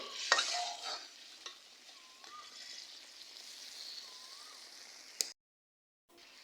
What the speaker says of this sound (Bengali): তো এই যে আমি খুরচুন দিয়ে আর কি লাড়া দিয়ে দেয়